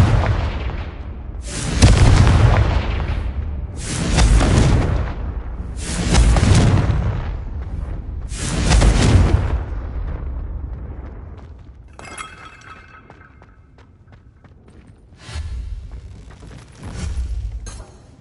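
In the Hogwarts Legacy video game, four heavy blasts of the Confringo spell go off at a steady pace, each a loud booming burst with a crackling tail. Fainter shattering and debris sounds follow, then two more bursts near the end.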